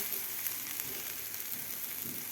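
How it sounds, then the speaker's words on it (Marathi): Spice paste for a pea and cauliflower curry fries in oil, giving a steady, soft broadband sizzle with faint crackles throughout, fairly quiet and with no one talking. "मस्त आपलं वाटण परतून झालेलं आहे"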